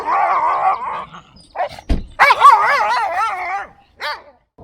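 A dog barks and whines at close range in a series of sharp, loud barks, yips and drawn-out whimpers with short gaps between them, and no one speaks.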